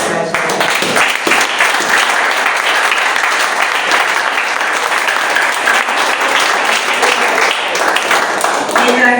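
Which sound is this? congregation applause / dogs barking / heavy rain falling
congregation applause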